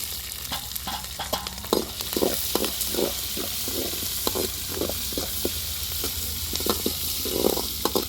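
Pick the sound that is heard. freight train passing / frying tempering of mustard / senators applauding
frying tempering of mustard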